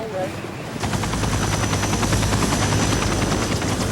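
A rescue helicopter's rotor thumps in rapid, steady pulses during a mountain glacier rescue, starting abruptly and staying loud and close.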